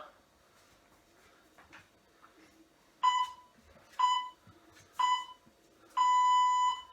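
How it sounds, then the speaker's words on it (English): An interval timer at a workout marks a 40-second round with four loud, sharp electronic beeps, the last held longer, after a few seconds of quieter room sound. "Keep going on the 40-second timer."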